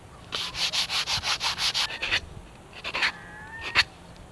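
Sandpaper rubbed by hand along the edges of a wooden boat during restoration, about ten rhythmic back-and-forth strokes close up, then a pause and a few slower, scattered rubs.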